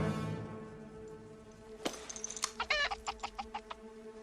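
Chicken clucking, a short run of rapid, rhythmic clucks following a sharp squawk, fairly close and loud over a faint background hum.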